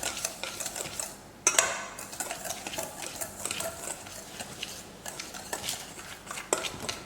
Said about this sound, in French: Maintenant, on va mélanger pour que ça soit un mélange de deux.